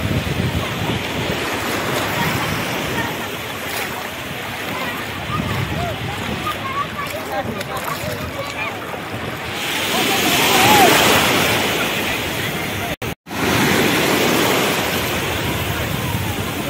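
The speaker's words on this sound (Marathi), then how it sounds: "एका समुद्राचा आवाज जवळून आता जवळून मोठी एक लाट आलेली आहे" Sea waves rush and break close by on a beach, a continuous roar of surf that swells louder midway as a big wave comes in, with wind buffeting the microphone and voices faintly underneath.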